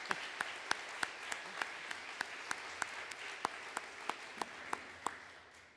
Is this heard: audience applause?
yes